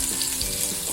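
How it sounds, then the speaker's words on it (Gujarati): Onion fries in hot ghee as the start of a gravy for sweet corn sabzi, a bright, continuous close sizzle with fine crackling and a few soft stirring bumps, no voices. "આપણે જે ઘી છે તેમાં જ આપણે ગ્રેવી માટે પહેલા આપણે ડુંગળી નાખી દઈશું."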